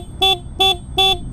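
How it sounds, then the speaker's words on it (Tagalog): A 2020 Yamaha MT-15 motorcycle horn sounded three times in short, evenly spaced loud beeps, close up with no talk. "Yan yung horn niya."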